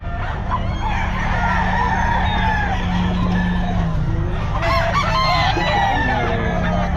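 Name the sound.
bullstag rooster crowing at a pet market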